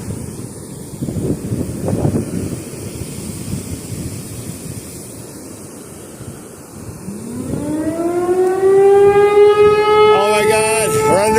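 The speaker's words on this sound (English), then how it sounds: "that wind is getting worse" Wind gusts roar against the microphone at an outdoor fishing spot, loud and buffeting, and a rising siren-like wail swells and takes over toward the end.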